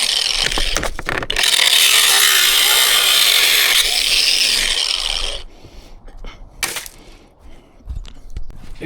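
Angle grinder cutting through screws holding window brackets during window removal, a loud sustained bright grinding whine for about four seconds, then trailing off into quieter scraping and a brief final burst.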